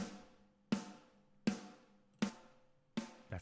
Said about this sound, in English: I layered this snare sample.